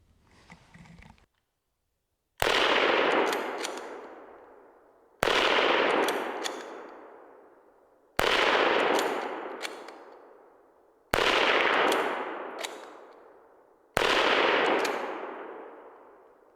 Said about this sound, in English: do a little bit of shooting